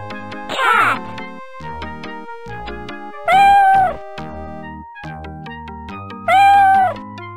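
A cartoon cat meows three times in the 1993 DOS educational game Mario's Early Years, each meow a loud, clear synthesized cry, set against a steady backing melody of game music.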